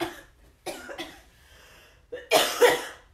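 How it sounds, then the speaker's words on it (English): A woman gives several short, sharp coughs, a few spaced bursts followed by a louder pair near the end, close and clear against a quiet room. "I was not coughing all day."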